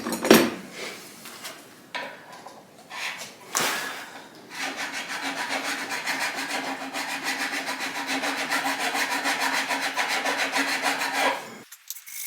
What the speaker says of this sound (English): we're going to file those frets